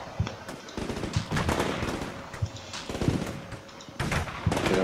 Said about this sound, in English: MG's still putting out a bit of fire.